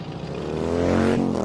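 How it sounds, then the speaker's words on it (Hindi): A scooter pulls away outside a home at night, its engine hum rising steadily in pitch as it accelerates, a continuous motor drone that grows louder over a second and a half, with no voices. "फिर स्कूटर की एक आवाज जाती हुई सुनाई दी,"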